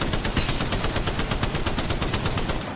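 Loud, rapid automatic gunfire in the video game Apex Legends, with evenly spaced shots fired in one continuous burst close up. No one talks over it.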